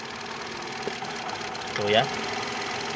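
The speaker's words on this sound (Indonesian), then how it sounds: "Kalau ada percikan bunga api listrik bunyinya, itu koilnya berarti masih hidup kayak gini" A Toyota Camry engine idles with a steady mechanical hum while a sharp snapping crackle of ignition coil sparking bursts out briefly near the middle, and someone speaks over it.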